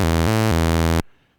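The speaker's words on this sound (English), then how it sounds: "So this is the buzzer" Synthesized buzzer tone from an Atari ST, a harsh, steady, loud harmonic drone lasting about one second with a brief pitch shift partway through, then cut off abruptly into silence.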